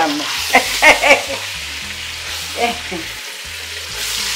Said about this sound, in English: Now we're browning the other half of the meat. Just keep turning it into those onions until all the sides are nice and brown and toasty.